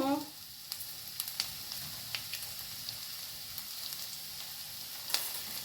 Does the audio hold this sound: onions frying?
yes